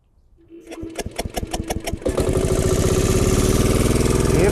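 A hybrid MBV 354 diesel motorcycle engine is cranked with a few rhythmic turns, then fires and settles into a loud, steady, thumping diesel idle close by.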